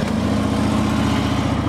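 A used 2013 Harley-Davidson Electra Glide Ultra Limited motorcycle engine idles steadily nearby, a deep, loud, continuous rumble with an even throbbing pulse and no talk over it.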